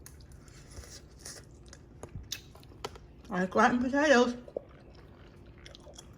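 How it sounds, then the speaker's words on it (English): Someone chewing a bite of homemade scalloped potatoes with cheese, soft crunchy mouth sounds clustered in a short burst mid-clip, close and fairly quiet, with a person speaking briefly. "Excuse me for chewing."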